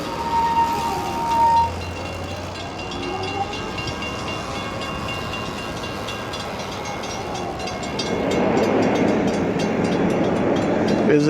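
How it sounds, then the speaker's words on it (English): A train passes through a road crossing, a long steady rumble and rolling rail noise heard from nearby, swelling louder toward the end. "I never see this train operate at this time."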